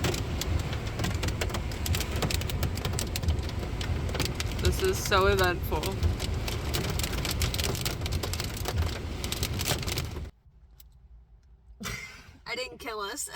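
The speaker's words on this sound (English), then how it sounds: "It is hailing right now." Hail pelts a car during a sudden storm at the Maryland Sheep and Wool Festival, a dense loud drumming on the roof and glass for about ten seconds before cutting off abruptly, with people talking over it and again afterward.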